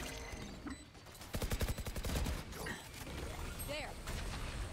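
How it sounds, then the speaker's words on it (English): A swarm grenade from the game Valorant goes off amid a burst of rapid, rattling pops and mechanical clatter, layered over continuous game noise and a busy background bed. "Swarm grenade out."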